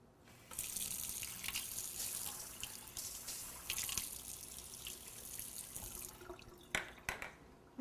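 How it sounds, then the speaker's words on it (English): Warm water runs steadily from a kitchen tap as royal icing is prepared for cake decorating, a continuous close splashing stream that cuts off, followed by a few drips and clinks. "And then we need 1/3 cup of warm water."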